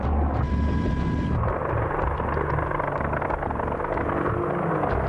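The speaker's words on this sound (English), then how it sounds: "These helicopters are seeing urban combat like never before" An Apache attack helicopter flies overhead in an urban combat setting, its rotor and engine roar loud, steady and near, with a brief higher whine at the start before the broad rumble carries on alone.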